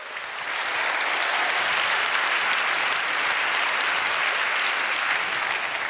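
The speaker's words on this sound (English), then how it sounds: "Let's have a warm round of applause for the Munk family and the late and great Peter Munk." Sustained applause from a debate audience in a large hall, swelling quickly after a quiet start and then holding as a thick, even roar of clapping.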